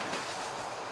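Train rolling through the Balkan Mountains, a steady broadband rumble and rush of the carriage in motion, close and continuous over a single second with no voices.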